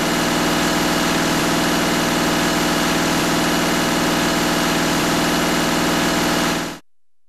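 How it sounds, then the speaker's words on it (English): A diesel engine running at high idle, close and loud, with a steady even drone and fine rapid pulsing throughout before it cuts off abruptly near the end. "Run the engine at high idle and record the gauge readings."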